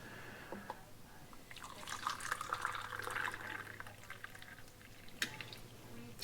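Hot blackberry jelly concentrate pours from a glass jug in a quiet, continuous liquid stream lasting a few seconds, with faint splashes and a small clink near the end.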